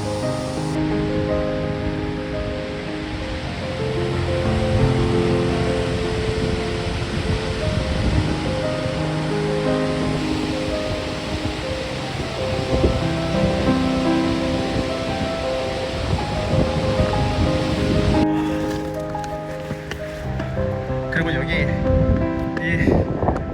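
A steady, dense roar of rushing water from Harajiri Falls in Bungo-Ono, Japan, fills the air continuously, with people talking over it throughout.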